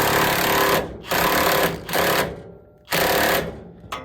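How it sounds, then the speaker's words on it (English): A big long ratchet torques a Pitman arm on a 1964 Plymouth Fury, giving four loud, close bursts of rapid clicking, each separated by a brief pause as the handle is swung back. "definitely torque it to spec with my big long overkillinator ratchet"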